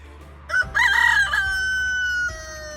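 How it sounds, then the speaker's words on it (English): Roosters crow loudly and close, a long drawn-out call with a second crow following, over quiet farmyard background. "Two roosters are gonna come say hello."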